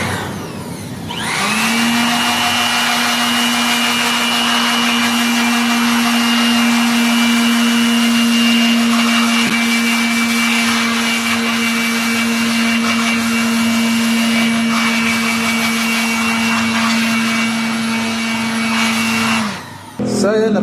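A loud, continuous air blower roars with a steady whine for nearly twenty seconds while cleaning the inside of a Dahua DVR, switching on at the start and cutting off near the end.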